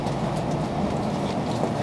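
Hitachi 50th anniversary chartered group train running on rails between Iwaki and Yumoto, a steady, continuous rumble of the rolling train heard from inside the carriage.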